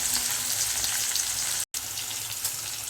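Curry leaves and garlic sizzling in hot oil for a brinjal and drumstick kara kuzhambu, a steady close crackle with a brief silent break partway through.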